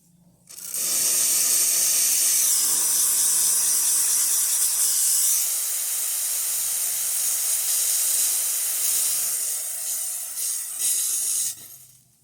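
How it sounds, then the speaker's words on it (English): Steam wand on a Lelit Bianco espresso machine hissing loudly and steadily for about ten seconds, a continuous bright rush of escaping steam that starts abruptly and cuts off near the end. "So let's test the steamer."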